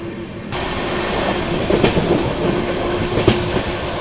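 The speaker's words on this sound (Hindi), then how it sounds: "दुरंतो काफ़ी रफ्तार में निकली थी।" A Duronto express train runs at speed past a station. A loud, steady roar of wheels on rail carries a rapid clickety-clack, with a few sharper clanks rising above the rumble.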